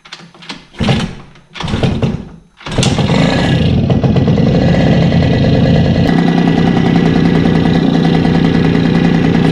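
A Yamaha RD50 'Kenny Roberts' two-stroke motorcycle with a fresh cylinder coughs through a few short kick attempts, then fires and settles into a loud, steady, close idle that continues without talking.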